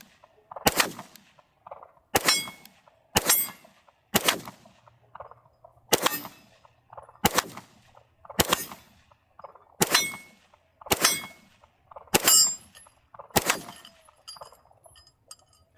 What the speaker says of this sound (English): That's how you safely shoot a Glock pistol.